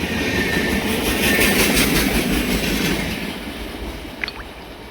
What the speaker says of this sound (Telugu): 15227 ఎస్ఎంవిటీ బెంగళూరు నుంచి ముర్జాపూర్ వెళ్ళే వీక్లీ సూపర్ ఫాస్ట్ ఎక్స్ప్రెస్ అండి ఇది.